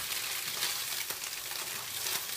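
Tofu frying in a pan, a dense, even close-up sizzle with light crackles throughout and no voices.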